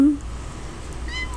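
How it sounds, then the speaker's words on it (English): A short whiny cat meow from The Sims 4, heard briefly near the end of a quiet moment, faint and plaintive. "I can handle this cat. It's a little whiny."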